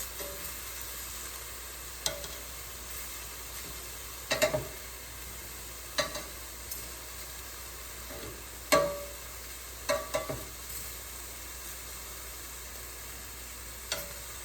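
Shrimp cooking in a pan over high heat, with a faint steady sizzle underneath and scattered scraping and stirring knocks every couple of seconds.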